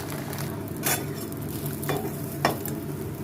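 An omelette frying in a pan, with a steady soft sizzle beneath a few sharp scraping strokes of a utensil against the pan, recorded close up with no talking.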